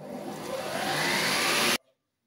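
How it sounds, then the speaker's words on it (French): A food processor blends homemade mustard with a loud, steady whirring motor that builds slightly, then cuts off abruptly into near silence. "Et vous remettez à mixer tout simplement."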